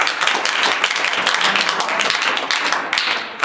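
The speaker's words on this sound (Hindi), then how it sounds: "चलो, ताली बजाओ।" A classroom of children claps together for a classmate during a fractions lesson, a dense, steady burst of many hands applauding at close range.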